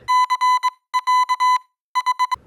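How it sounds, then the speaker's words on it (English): Electronic alarm from the 1973 martial arts film Enter the Dragon, ringing in three loud bursts of rapid, clipped beeping pulses separated by brief silences, with no voices. "So he pulled the alarm on."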